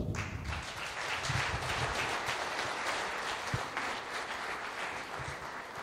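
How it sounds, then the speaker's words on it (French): An audience at a Génération Verte party general assembly bursts into loud, sustained applause, a dense wash of many hands clapping together that holds steady for several seconds with no speech over it. "Je vous prie de vous acclamer"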